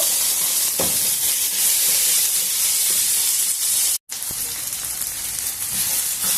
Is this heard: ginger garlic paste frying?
yes